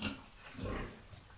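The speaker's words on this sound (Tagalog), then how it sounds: "Today guys ay nanganak itong baboy namin" A sow that has just given birth grunts once or twice, short low oinks close by at a modest level with nothing else heard.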